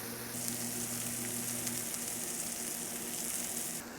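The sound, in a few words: ribeye steak searing on hot griddle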